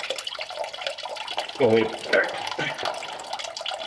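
Water splashing and draining from a Ford flathead engine block on a 1939 Mercury Coupe, with close sloshing and trickling throughout, briefly under a short spoken remark.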